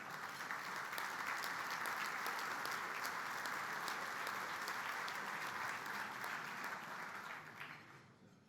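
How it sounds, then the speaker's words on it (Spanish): An audience at a business lunch with the President of Uruguay claps in a sustained, even round of applause, heard from a distance and fading out at the end. "Y me gusta que aplaudan"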